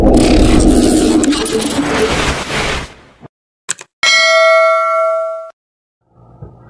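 A notification bell sound effect rings out alone with a bright, sustained metallic ding that fades after about a second, following a burst of noisy audio and a couple of short clicks.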